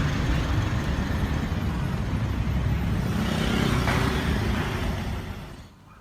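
Traffic jam on a street in Chonburi, Thailand: a continuous low rumble of idling and creeping car and truck engines nearby, steady for several seconds before fading out at the end.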